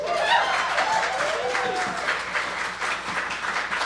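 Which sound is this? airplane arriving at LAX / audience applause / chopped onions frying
audience applause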